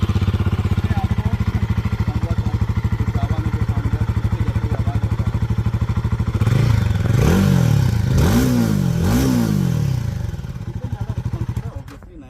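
A Royal Enfield Hunter 350 or Guerrilla motorcycle engine thumps at a steady, close idle with a regular putter, then revs up and down several times before easing off.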